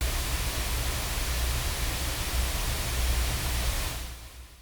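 Steady emulated hiss from the PSP InfiniStrip preamp plugin, heavily boosted: broad, even noise held for about four seconds before fading away, with no other sound.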